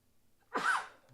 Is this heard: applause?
no